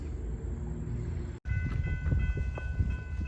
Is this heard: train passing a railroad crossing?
yes